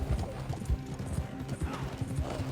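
Hooves clip-clop in a quick galloping rhythm as a horse runs in a shooter video game, close and steady under faint game noise, with occasional mechanical clicks.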